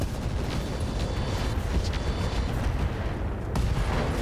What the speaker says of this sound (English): LRM ER ammo explosion, and that Orion is out of here.